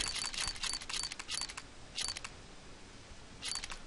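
A CS:GO weapon case opening spin sounds as rapid, light ticking clicks in several short bursts with brief pauses between them, fairly quiet and with no talk.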